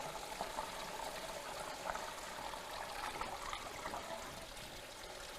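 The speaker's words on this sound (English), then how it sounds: "That's some really fast water movement that we've got going on through there." Water runs and trickles quickly through a molded Delta Dry stucco drainage product, a steady soft splashing hiss that stays even and fairly faint throughout with no talk.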